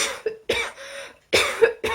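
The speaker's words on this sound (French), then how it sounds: "Bah voilà, je tousse quand j'en parle" Several harsh coughs close to the microphone, coming in short fits with brief gaps between them.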